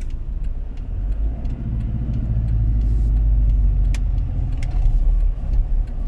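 A truck hauling a mini excavator drives in second gear, its engine a loud, steady low rumble close up, with small rattles and clicks from the cab over the drone.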